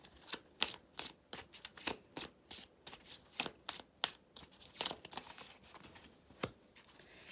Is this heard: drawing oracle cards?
yes